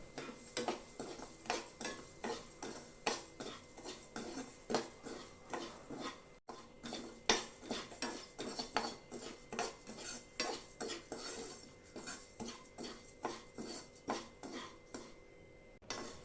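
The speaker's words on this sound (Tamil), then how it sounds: "இதில் முக்கால் கப் அளவு கோதுமை ரவையை போட்டு ஒரு மூணு நாலு நிமிஷத்துக்கு நல்ல வாசம் வர வரைக்கும் வறுத்தெடுத்துக்கலாம்" Wheat semolina roasts in ghee in a pan, stirred with a spoon in a steady rhythm of scraping strokes and light metallic clinks, faint and close, with a soft sizzle beneath.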